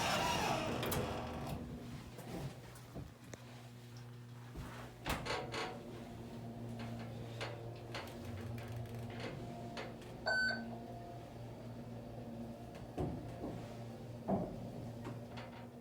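A Montgomery A-Series hydraulic elevator motor hums steadily at a department store, a faint, continuous low drone with scattered clicks and clunks and a brief electronic beep partway through.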